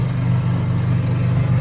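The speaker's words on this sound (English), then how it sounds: "the engine's revving up." A hybrid golf cart's small engine hums steadily up close, a low continuous drone with a slight rising rev and no voices.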